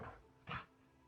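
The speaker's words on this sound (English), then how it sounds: "Oh, pet Rexus." A pet dog in the video game Elder Scrolls Online gives a short yip or whimper after a soft first sound, brief and close over quiet background.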